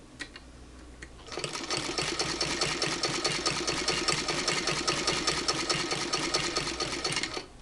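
Hand-crank sewing machine stitching the binding onto a quilt, a steady rapid mechanical chatter that starts after a second of quieter handling and runs evenly to the end, close and alone.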